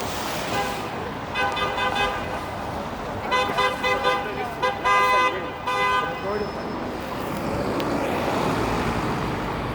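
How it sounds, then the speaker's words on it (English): Several car horns honk repeatedly in overlapping bursts at a truck turning left on a busy downtown Toronto street, loud over steady traffic rumble, then fade to road noise. "I think that truck was trying to turn left and it's not supposed to, hence all the honking."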